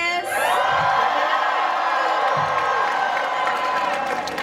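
Audience members from South Texas cheer, whoop and shout loudly in a dense, sustained roar with no break, filling the room at an event welcome.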